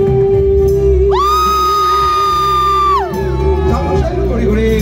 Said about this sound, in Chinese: 谢谢欢呼声